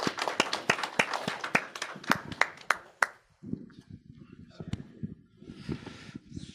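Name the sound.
audience applause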